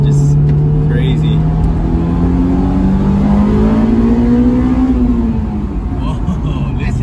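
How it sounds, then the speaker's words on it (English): A Honda S2000 AP2 engine revs loud and close, its steady drone climbing in pitch over several seconds and then easing back, with talk underneath. "Whoa, listen to that. Just screams. You know, this car just wants to rev."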